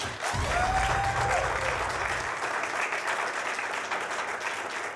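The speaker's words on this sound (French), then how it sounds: "Est-ce que je peux avoir d'abord un tonnerre d'applaudissements pour vous-même?" Thunderous audience applause at an evening event in a hall, dense steady clapping throughout with cheering and a brief whistle near the start, loud and close.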